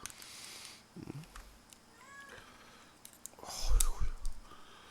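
A cat gives a couple of short, soft meows close by, amid quiet handling noises and a few faint bumps.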